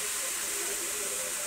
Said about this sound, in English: Let some of that steam out.